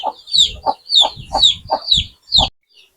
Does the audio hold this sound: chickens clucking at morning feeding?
yes